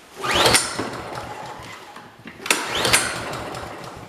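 A two-stroke lawn mower engine is pulled to start twice, each attempt a rising whir that sputters briefly before dying away, close by and fairly loud.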